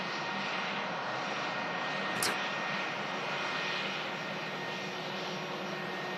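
An aircraft at Manchester Airport gives a steady, broad engine roar at moderate distance that holds throughout, with one brief sharp click partway through.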